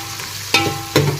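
Onions, capsicum and tomatoes frying in a pan, a steady sizzle broken by two sharp scraping stirs of the spoon, close and fairly loud.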